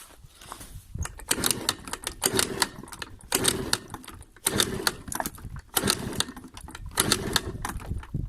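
An Aprilia SR 50 motard engine cranking and sputtering close by, with repeated rough, rattling bursts that come and go in an uneven rhythm as it tries to start.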